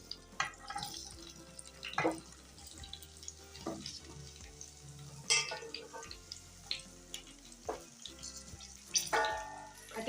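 A soft, steady sizzle of chopped ivy gourd frying in hot oil with occasional stirring scrapes and clatters, close by and moderately quiet.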